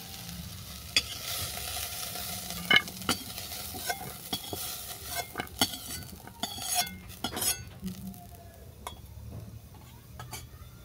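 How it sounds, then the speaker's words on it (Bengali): Malabar spinach stems and cucumber fry in mustard oil while being stirred in a pan, with a steady sizzle under scattered scrapes and clinks of a spatula against metal, close and fairly quiet, no voices. "পুঁই মিটুলি আর শসা বাদামি করে ভাজা হয়ে গেছে।"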